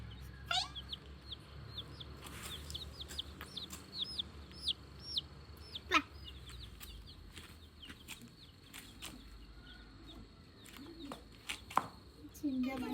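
A hen and chicks cluck and peep in short, scattered bursts, mostly soft and somewhat distant, with occasional louder calls and faint rustling in a quiet setting.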